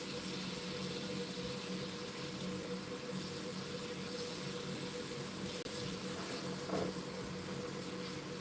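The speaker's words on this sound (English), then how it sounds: "So this is the ugu leaves that I'm washing." Ugu leaves being washed under a steadily running kitchen tap, a continuous close water rush with faint splashing and no talk.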